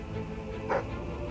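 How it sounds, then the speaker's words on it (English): A single short bark from a dog in Fable III, heard over a steady droning game background. "Be quiet, doggy."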